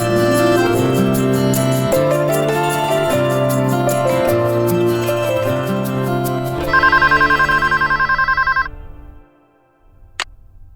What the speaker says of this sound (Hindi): तब तक मैं समीर के पेरेंट्स को फोन करता हूँ खुशखबरी देने के लिए।